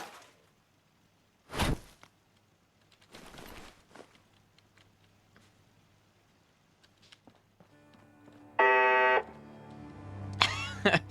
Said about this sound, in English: that beep is so loud when they disengage